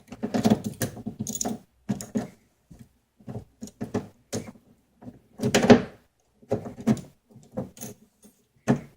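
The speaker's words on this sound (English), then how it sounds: "Line up the clamp plate with the lock hole in the door and then install your newly built lock like I do here." Rebuilt door lock being fitted into a BMW E30 car door, with a series of close, sharp metallic clicks, clanks and knocks in irregular bursts as parts are lined up and pushed into place.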